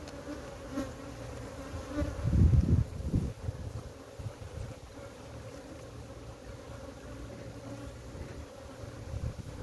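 Africanized honey bees from a wild colony being captured in Guyana buzz in a dense, close drone, with a louder burst of wingbeats early on and wind rumbling against the microphone.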